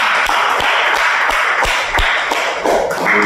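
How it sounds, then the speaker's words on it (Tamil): Loud, close audience clapping at a Tamil debate event (pattimandram), sharp distinct claps in a steady dense wash of applause without any voice on top. "எல்லோருக்கும் பலத்த கைத்தட்டல்."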